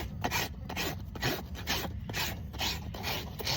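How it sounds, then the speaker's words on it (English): A farrier's rasp files and levels a horse's hoof in quick repeated strokes, a coarse rasping scrape pulsing about twice per second, close and alone. "we grab our rasp, which is this, and we just level the foot"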